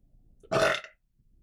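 A single loud, drawn-out burp rises from near-silence, lasting about half a second and heard alone with no talk around it.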